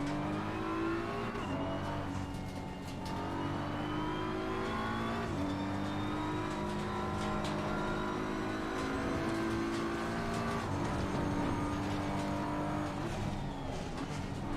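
A McLaren race car engine in Assetto Corsa Competizione drones steadily throughout, its pitch stepping up and dropping back through gear changes, loud and continuous with no talking.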